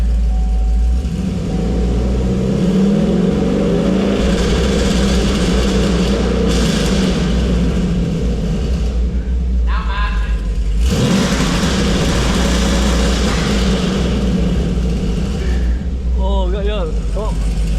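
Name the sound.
5th gen Camaro engine started and revved to 3,500 rpm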